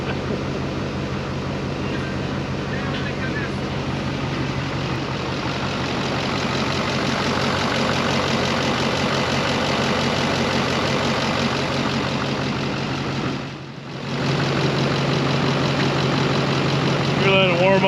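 Idling LBZ Duramax diesel pickup engine after a turbo upgrade, a steady loud rumbling drone that holds for most of the stretch with a brief dip near the end, heard alone without talk.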